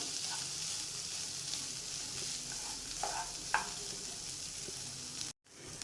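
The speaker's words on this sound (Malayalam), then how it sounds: "ഒരു 5 മിനിറ്റ് ഒന്നിങ്ങനെ ഇളക്കി കൊടുക്കാം കേട്ടോ. ഈ നെയ്യൊക്കെ എല്ലാവിടെയും ഒന്ന് ആവണം ഇതിൻ്റെ." Corn kernels are stirred in ghee in a pan, making a faint, steady sizzle with a few light scraping taps of the spoon before a short gap near the end.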